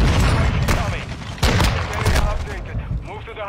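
A dread charge grenade going off in a video game, a loud blast burst with crackling gunfire-like bangs around it, over constant game noise and someone talking.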